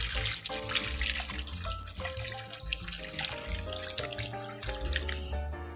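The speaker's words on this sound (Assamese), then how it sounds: "এইখিনি এতিয়া মই ইয়াতে অকণমান গৰম পানী দি দিওঁ" Hot water poured into a pan of fish curry, a steady gurgling, splashing stream heard close up and continuing throughout, with no talking.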